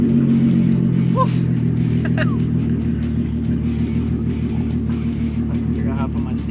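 Volkswagen Corrado driving, its engine humming steadily from inside the cabin with a constant low drone and road noise, while brief voice sounds occur over it.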